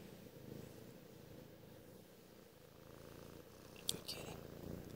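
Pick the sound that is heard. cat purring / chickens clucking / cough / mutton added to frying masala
cat purring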